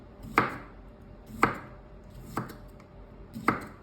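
Knife chopping food into small pieces on a cutting board while cooking a Thai dish, four separate sharp chops spaced about a second apart, close and clear with no talking.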